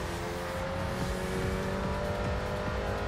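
A Mini Cooper's engine in the mobile racing game Racing Master drones steadily with a buzzy, game-like tone, holding a constant pitch throughout with no talking.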